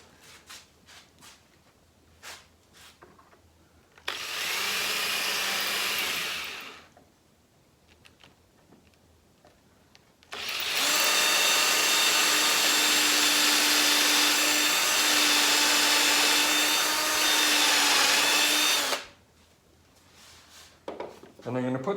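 A power drill whirs in two bursts while drilling through a hole into a wooden table leg, a short one then a longer, steadier run, with quiet clicks and shuffling in between.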